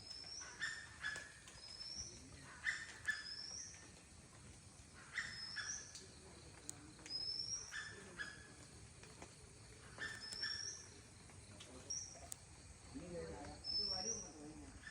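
Birds calling in a forest around a 30-foot treehouse in Kerala, with repeated short chirps and whistles recurring every second or two at moderate distance over a quiet background.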